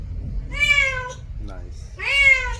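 Two drawn-out domestic cat meows, clear and close, separated by a short softer sound, over a low steady background rumble.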